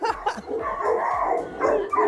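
A shelter dog barks and yelps repeatedly at close range, quick excited bursts with whimpering tones between them.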